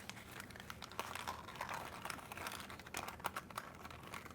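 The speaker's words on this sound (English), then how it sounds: "We will now roll this up" Paper printed as a Harry Potter cracker is rolled up around double-sided tape, giving close, soft crinkling and rustling with small irregular crackles over a few seconds.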